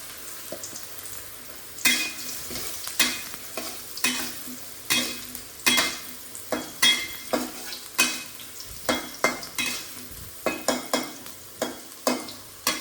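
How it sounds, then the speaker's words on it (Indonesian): Tempeh fries in hot oil with a steady sizzle, punctuated by a rapid series of sharp scraping and clattering stirs of a utensil against the pan, close and without speech. "Dan di sini kita sudah panaskan minyaknya. Waktunya kita masak tempenya."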